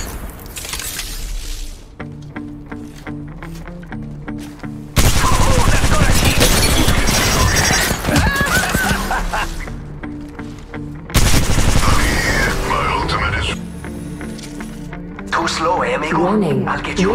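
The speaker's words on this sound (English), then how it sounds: "Someone's getting shot." Gunfire in the Apex Legends Mobile video game, bursts of rapid automatic shots in two loud spells separated by quieter stretches of distant shooting, with game voice and effect sounds in between.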